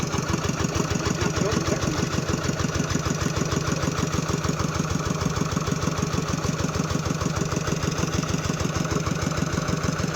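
A tractor fitted with rubber tracks idling nearby, a steady rhythmic low chugging engine note that holds constant and fairly loud throughout.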